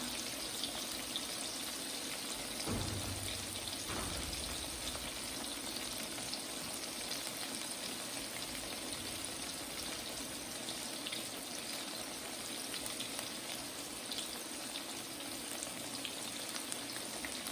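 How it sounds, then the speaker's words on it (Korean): Steady crackling sizzle of food deep frying in hot oil, dense and even throughout, with a brief low clunk near the start. "이렇게 자글자글 잘 튀겨보도록 하겠습니다"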